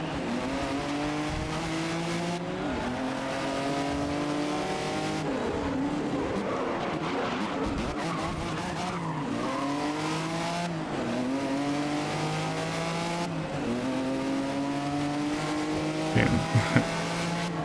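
A race car in GRID (2019) drives hard through a lap: the engine revs rise and fall through gear changes and tires squeal and skid in corners, loud and continuous, with a brief knock near the end.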